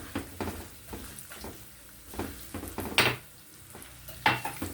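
Sesame seeds toasting in a pan, with a utensil scraping and knocking against the metal in uneven strokes, soft dry sizzling underneath and a couple of sharper clanks.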